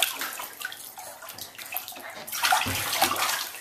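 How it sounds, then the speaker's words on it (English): A baby splashes in bathwater in a home bathtub, with close, busy sloshing that starts soft and grows livelier toward the end. No one speaks. "Do you like swimming in the bathtub?"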